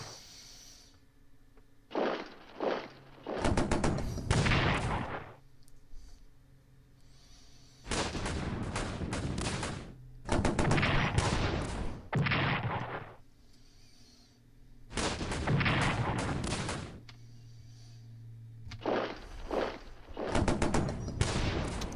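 Gunfire bursts in the World War I strategy video game Strategic Command, coming as loud clustered volleys of rapid shots separated by quieter pauses across the stretch.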